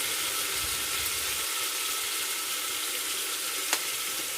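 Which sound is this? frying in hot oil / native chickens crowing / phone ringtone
frying in hot oil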